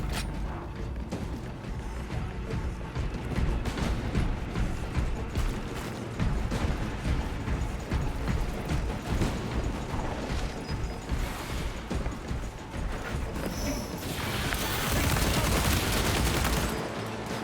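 Sustained gunfire volley in the Space Marine 2 Warhammer 40K video game, dense and loud throughout, with a brief swell of heavier blasts near the end.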